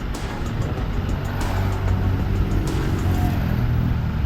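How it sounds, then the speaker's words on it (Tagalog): Heavy traffic on a road under construction in Cavite, with a steady low rumble of car engines close by and passing vehicles swelling now and then over continuous road noise. "Dito na trap nga tayo dito, sobrang traffic gawa nga din sa ginagawang daan"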